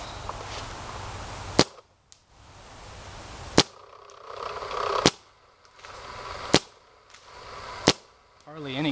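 A Planet Eclipse Geo2.1 paintball marker fires five single shots, each a sharp, loud crack spaced roughly one to two seconds apart over a steady background hiss.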